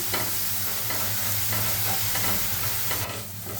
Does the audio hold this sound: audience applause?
no